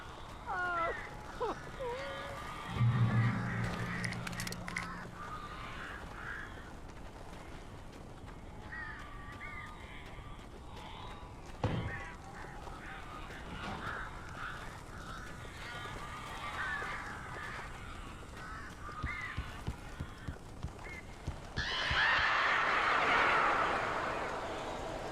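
Crows caw in harsh, scattered calls inside the Alan Wake Remastered video game, faint against a quiet ambient backdrop with occasional thuds and a louder rushing swell near the end.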